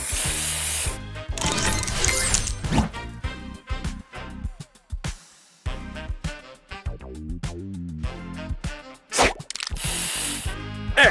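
A spray booster effect in the Mutation Lab mobile game, with loud hissing spray bursts, ratcheting mechanical clicks and busy game sound effects layered densely throughout.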